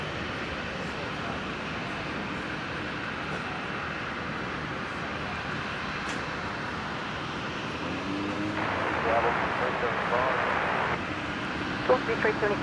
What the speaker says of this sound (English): Looks like they're going to roll through to the very end of the runway, the 321 Neo